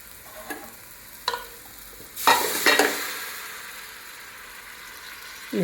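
Beef pieces and bones frying in roasted ground masala for kappa biryani, a few stirring scrapes followed by a louder burst of sizzling that slowly settles into a low, steady fry; close and without speech.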